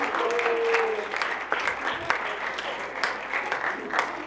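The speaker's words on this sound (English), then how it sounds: "Clap for Lily, our master" A small group of people claps in a room, fairly faint, with uneven individual hand claps standing out and a brief voice near the start.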